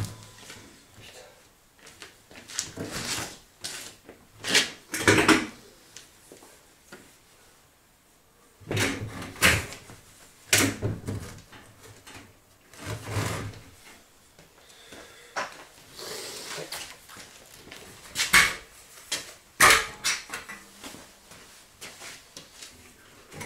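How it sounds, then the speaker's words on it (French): A door being fitted into a plasterboard partition on a hemp-brick build: repeated knocks, thumps and wooden scraping bursts at uneven intervals, with brief human sounds between them, close and fairly loud. "Et je vais mettre la porte."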